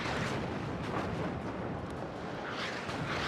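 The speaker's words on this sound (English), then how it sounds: "artillery's working their way over towards it" Artillery fire and explosions rumble in a WARNO strategy game battle, shells landing around a Stinger squad as a dense, continuous low roar of overlapping blasts with no clear gaps.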